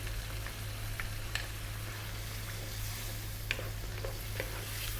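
Cream sauce for shrimp pasta simmering in a pan while being stirred, a faint soft bubbling sizzle with occasional small taps over a low steady hum.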